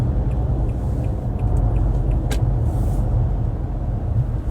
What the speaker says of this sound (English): I was in traffic